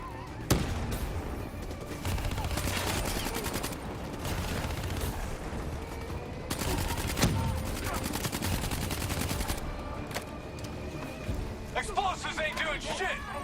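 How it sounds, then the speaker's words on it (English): Swarm launcher and other weapons firing in a Call of Duty: Black Ops III battle, with bursts of loud gunfire and blasts over roughly ten seconds, then scattered shots, under constant shouted talk. "Hit him with the swarm launcher."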